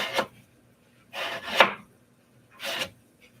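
A knife slicing food on a board, three separate close, rasping strokes spaced about a second apart, with quiet pauses between them and no voices.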